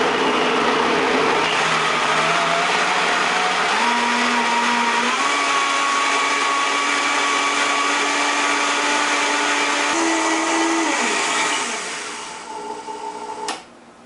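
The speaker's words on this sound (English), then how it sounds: "I'm going to turn on the Vitamix" A Vitamix blender blending stewed apples roars loudly on high speed, its pitch climbing in steps as it runs, then winding down near the end.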